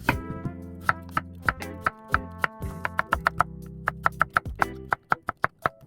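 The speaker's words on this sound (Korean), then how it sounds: "어슷썰기 당근을" A knife chops carrots diagonally on a cutting board in a steady run of crisp, sharp taps. The taps come close together and clear, with a tonal background hum underneath.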